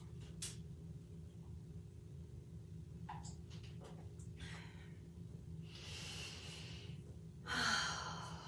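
Slow, deep breaths during a morning yoga session: a few soft airy inhales and exhales over a low steady room hum, quiet and close, with the last breath louder.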